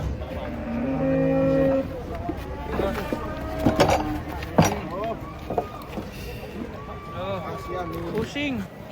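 A large jumbo cow is unloaded from a truck, giving low moo-like calls amid clattering, shuffling and handling noises, with people talking and shouting throughout.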